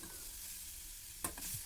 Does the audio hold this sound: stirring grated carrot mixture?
yes